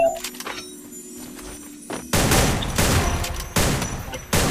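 Rapid gunfire from the Free Fire MAX battle game, with quiet scattered shots at first, then loud dense bursts of automatic fire in several volleys.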